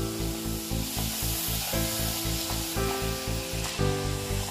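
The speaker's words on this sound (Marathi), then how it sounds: "अशा प्रकारे परत हे फ्रेंच फ्राईज तळून घ्यायचे आहे।" French fries frying in hot oil, a dense, loud, continuous sizzle with a steady bubbling pulse underneath, close up and without any speech.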